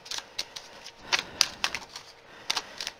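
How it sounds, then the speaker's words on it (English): Tarot cards shuffled by hand: a quick irregular series of crisp papery snaps and riffles, close and fairly quiet, with no talking. "think I want to shuffle some more before I put more down."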